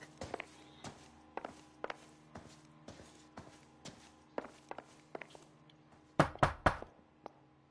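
Knocking on a door in the video game L.A. Noire, a series of sharp raps in small groups spaced through the scene, with a louder, harder burst of knocks near the end over a faint low hum.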